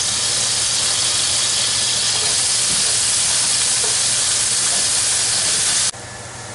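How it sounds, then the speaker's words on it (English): Onions and garlic sizzle in a pan, a steady loud hiss running without a break and cutting off abruptly near the end. "I'm going to add my onions, saute them up, the garlic"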